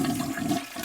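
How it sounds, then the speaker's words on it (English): A toilet flush sound effect: a short gush of rushing, swirling water, fairly quiet and heard alone. "Can I just get the toilet sound right now?"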